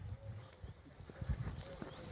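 Horse hooves clip-clop in a steady walking rhythm on an outdoor arena during a dressage lesson for beginner riders, fairly close, with faint voices and ambient noise in the background.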